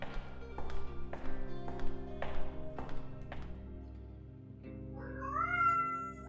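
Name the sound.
cat meowing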